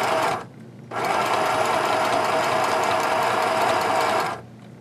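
A sewing machine with a zipper foot stitches along a zipper in a steady, close, continuous run after a brief burst and pause, then stops.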